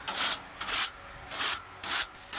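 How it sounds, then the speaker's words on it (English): A small brush scrubs dust out of the coils of a Rheem RPMD heat pump, giving five short, bristly rasping strokes in a steady back-and-forth rhythm, close and clear with brief pauses between strokes. "I'm brushing through 2 rows of coils here."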